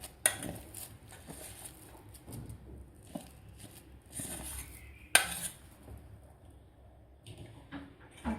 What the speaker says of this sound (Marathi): आता एका ताटामध्ये आपण हे काढून घेऊया